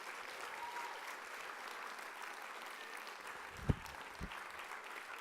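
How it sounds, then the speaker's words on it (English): An audience at a Rotary district conference keynote claps for a speaker, a moderate, even spread of applause from a roomful of people that holds steady, with a couple of sharp nearby knocks near the end. "Round of applause for Dave."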